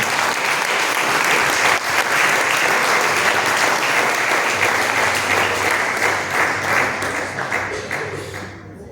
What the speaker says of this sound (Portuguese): Aplauda Jesus com muito alegria.